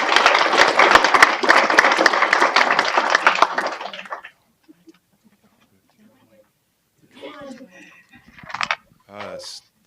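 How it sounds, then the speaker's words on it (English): Sustained crowd applause at a community event honoring a student, loud and dense for about four seconds, then fading into near silence before brief bursts of talk and voices. "let's give a big round of applause to Miss Dixie."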